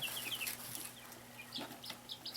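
Young chicks in an indoor brooder give a run of high, quick peeps and chirps, fairly close and soft, with short pauses between calls and no talking.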